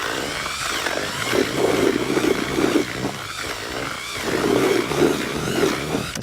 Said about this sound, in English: I'm just going to mix it around dry with a drill.